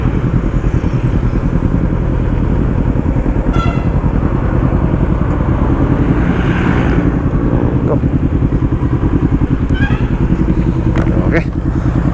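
Motorcycle engines idle and rev at close range, among them a Honda CB500X, a Kawasaki Z650 and a Kymco CT300 scooter, with a steady low rumble throughout and a few short toots.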